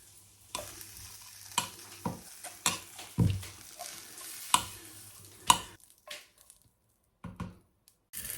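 Salami, garlic and halved sausage cook in a pan, a soft sizzle under repeated sharp scrapes and knocks of stirring at irregular intervals, close by, fading to near quiet near the end.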